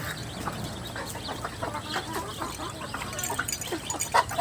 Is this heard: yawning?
no